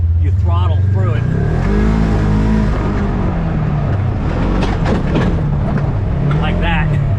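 Off-road vehicle on the Arizona Peace Trail throttling hard over a rough, rocky trail, its engine rumbling loud and close throughout, rising and falling with each surge, with a person talking over it.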